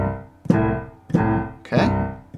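Boogie woogie piano left-hand power chords, each struck twice, sound as a few heavy, close low chords in a steady repeating rhythm, played alone.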